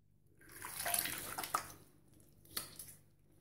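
Water splashes softly after a straight razor shave as someone rinses their face. Gentle, faint swishes and drips rise and fall in a few brief surges.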